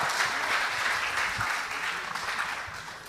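School debate audience in Kenya applauding the winning team, a steady wash of many hands clapping at moderate loudness that gradually tapers off.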